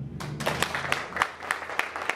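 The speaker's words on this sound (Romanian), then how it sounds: "să aplaudăm sosirea tortului" A crowd applauds at a summer school for private investigators, welcoming the arrival of a cake: dense, steady clapping from many hands, fairly close and continuous for a couple of seconds.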